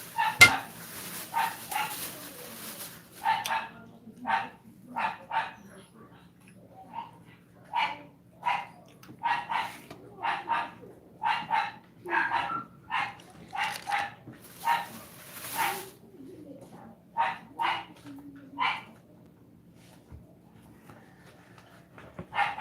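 Dogs bark over and over at close range, loud rhythmic bow-wow bursts in steady clusters with short gaps and some yips between them, no talking.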